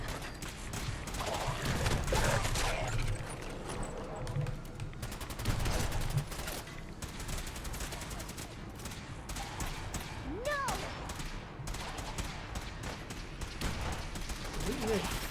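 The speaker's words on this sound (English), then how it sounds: "Who are they firing at?" Dense gunfire crackles through a Fallout 4 firefight in the Fallout Equestria mod, with bursts of rapid shots and heavier impacts at a moderate distance. Occasional voices speak over the steady volleys.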